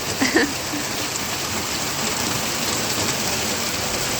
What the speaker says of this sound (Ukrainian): Вийшла на вулицю, хочу подивитися на цей чудовий дощик.